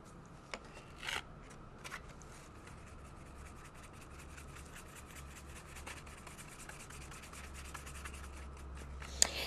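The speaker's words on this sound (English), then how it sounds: "now using the duster brush, I'm going to dust away the excess" A duster brush sweeps excess Perfect Pearls shimmer powder off dark cardstock, a faint, steady, close-up brushing hiss of soft rubbing strokes in a quiet room.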